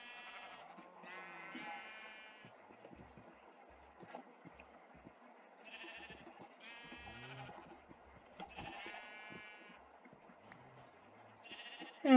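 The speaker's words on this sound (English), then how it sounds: "So I'm not trapped with these sheep for the rest of my life." Several sheep in a blocky sandbox video game bleat in short repeated calls, some overlapping, spread across a quiet background with faint game ambience and no speech.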